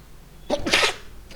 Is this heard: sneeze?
yes